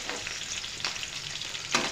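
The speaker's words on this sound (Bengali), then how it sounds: "কড়াইতে তেল দিয়ে দিলাম এখন মাছগুলো অল্প ভেজে নেব" Fish fry in hot oil in a wok with a steady close crackling sizzle, plus a few louder spits and stirring scrapes and no talking.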